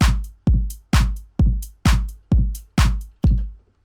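A programmed hi-hat pattern played back in FL Studio: eight crisp, evenly spaced hits about half a second apart, each a bright hiss with a quick decaying tail. They sound loud, close and steady, with no talk.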